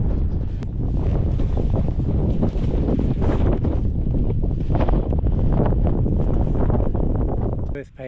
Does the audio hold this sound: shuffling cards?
no